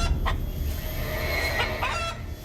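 A Balinese fighting rooster gives several short, close clucks and squawks in uneven bursts over a low background rumble, with no speech.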